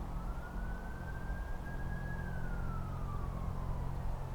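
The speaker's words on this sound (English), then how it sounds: "There's a siren" A wailing siren, heard as a single slow rising then falling tone over a steady low rumble of background noise, fairly faint and distant.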